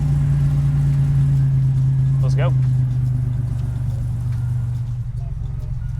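A 1987 Buick Grand National with a turbo V6 and non-factory single-side exhaust idles steadily and close by with a deep, throaty rumble that eases slightly toward the end, while a voice speaks briefly partway through.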